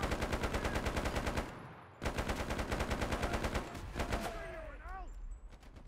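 Rapid automatic gunfire from a World War II Pacific battle in the video game Enlisted, loud sustained bursts with a short break, then a final burst fading into whistling incoming shells and battle noise.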